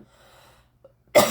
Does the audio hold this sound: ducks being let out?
no